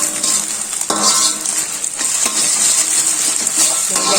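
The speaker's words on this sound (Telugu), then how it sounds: "ఇదిగోండి ఎగ్ ఉడుకుతుంది" An egg sizzles in a hot pan while chicken fried rice is cooked, with a steady crackling fry broken by repeated scraping and clinking of a spatula stirring against the metal.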